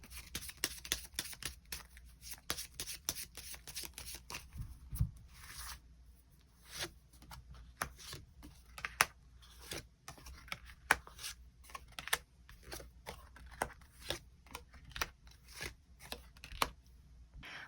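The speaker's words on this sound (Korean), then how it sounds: "추가 카드로 일별로 월요일부터 일요일까지 어떤 하루하루를 보내게 될지 추가 카드 뽑아보도록 하겠습니다" Tarot cards being shuffled and drawn, a long run of soft, quick papery flicks and taps in an irregular rhythm, close and quiet in an otherwise still room.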